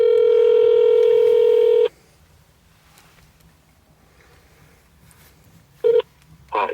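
A telephone number is dialed as a loud run of steady keypad tones, followed by a quiet pause and then two short electronic beeps from the line.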